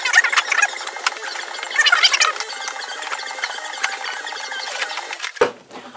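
Knife or blade tearing and slicing through the heavy wrapping of a cardboard mail box, a steady crackling, scraping rasp up close, ending in a sharp rip and thump.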